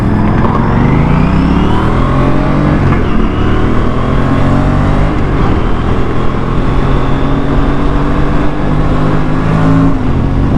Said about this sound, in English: The bike is accelerating smoothly with no hiccups